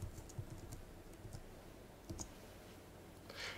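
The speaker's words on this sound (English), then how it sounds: "And Market Samurai will ask us to type in a captcha" Quiet, quick keystrokes on a computer keyboard as a captcha is typed, a short irregular burst of light clicks heard alone and fairly close.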